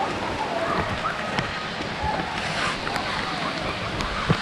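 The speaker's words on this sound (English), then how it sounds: "It started pouring down rain." Heavy rain pours down over the swimming spring at Wekiwa Springs State Park in Florida, a steady broad hiss of rainfall with scattered splashes and occasional faint activity in the background.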